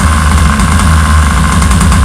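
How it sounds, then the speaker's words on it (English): A warm nitro model engine runs steadily after being fired with a starter, a loud, continuous buzzing drone with a strong low hum and no talk. "And hit it with a starter. It should fire right off."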